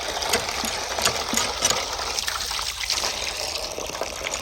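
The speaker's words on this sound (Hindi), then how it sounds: "ये व्यूअर्स, मैं आपको ये हैंड पम्प चला के दिखाता हूँ" Water splashes and trickles from a hand pump being worked by hand, a continuous close gushing with small irregular spurts and drips, loud and unbroken, with no talking over it.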